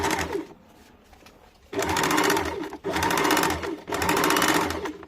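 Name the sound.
sewing machine stitching a kurti neckline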